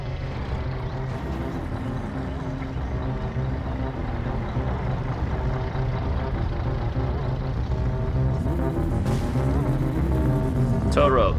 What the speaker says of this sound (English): I'll get the shit truck started up again